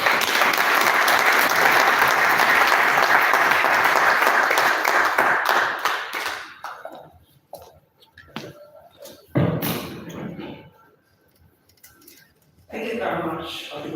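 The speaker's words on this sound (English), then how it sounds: "Please let's give that a round of applause." A round of applause at a facility management association gathering in Nigeria, dense clapping for about six seconds that thins into scattered claps, followed by a few brief bursts of voices and movement.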